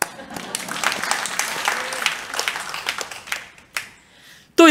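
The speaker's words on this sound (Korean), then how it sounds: "남자들 다 같이 박수" Men of a church congregation clap together in a sustained burst of applause filling most of the moment, fading briefly near the end before a sharp loud sound cuts in.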